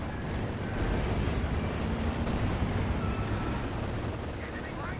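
Artillery supporting fire pounds Allied infantry in the World War II strategy game Company of Heroes 2, a dense, continuous roar of overlapping gunfire and blasts that holds steady and loud for about five seconds.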